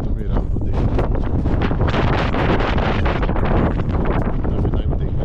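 Strong mountain wind at the Goechala viewpoint on the Kangchenjunga trek, buffeting the microphone with a loud, continuous roaring rumble and gusty flutter throughout.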